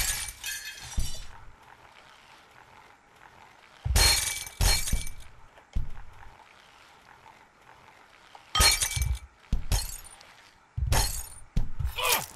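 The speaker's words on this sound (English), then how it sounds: "Now I'm breaking glass." Glass shatters in the video game Happy Wheels, with several sharp, loud bursts of breaking and tinkling glass separated by quieter gaps.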